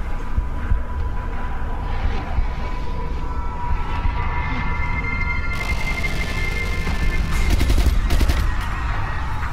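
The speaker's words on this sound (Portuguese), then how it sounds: "Por que o cara tava atirando pra cima, velho?" Bursts of gunfire in Resident Evil: Revelations 2, loud and continuous across the stretch, thickening into a dense volley near the end, with no talk over it.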